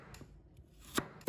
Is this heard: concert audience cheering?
no